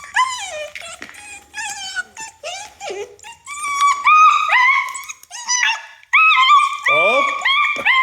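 A puppy being held down whimpers, yips and squeals in rapid, high-pitched bursts, close and loud, with short pauses between cries.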